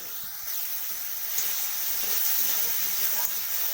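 Broken wheat frying with salt in a pan, a soft steady sizzle and hiss close by, faint and continuous with light stirring scrapes.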